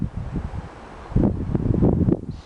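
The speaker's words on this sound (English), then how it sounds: "Right now it's cold, it's windy, a little bit of snow" Cold wind gusts through a roofless ruined Irish castle in light snow, buffeting and rumbling close against the microphone and growing stronger partway through.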